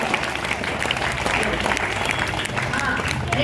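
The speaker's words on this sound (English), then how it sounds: "Big round of applause." High school students at an English club applaud together, a dense, continuous patter of clapping filling the room with a murmur of voices beneath it.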